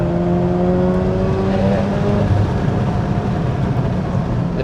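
The rotary engine of a 2003 Mazda RX-8 pulls under acceleration from inside the car, a loud, smooth, continuous drone whose tones climb steadily before settling into a rougher, broad road and engine roar.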